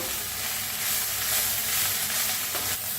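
Moth beans (matki) dry-roast in a kadhai with a soft, steady sizzling hiss that stays fairly quiet and even throughout, with no talking.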